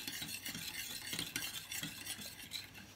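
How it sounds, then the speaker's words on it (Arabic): Spoon stirring sugar into Turkish coffee, a steady clinking and scraping in a small cup that carries on continuously and up close, with no talking. "تاع سكر. نبقاو نحركو مليح"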